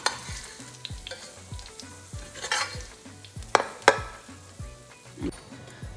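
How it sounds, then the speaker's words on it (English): Mixed vegetables shallow fry in oil for a Sindhi kadhi, a steady sizzle under repeated scraping and clinking stirs of a utensil against the pan, close and fairly quiet. "So we just need to shallow fry these vegetables."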